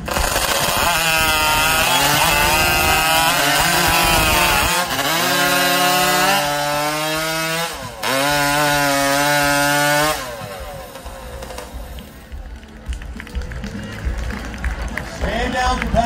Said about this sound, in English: Richard Jordan, his time allowed to get that saw started